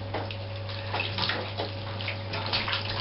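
Water running into a tub during a dog's bath at home, a steady broad rush with splashes that swell and fade as the stream is moved around the dog, close and alone.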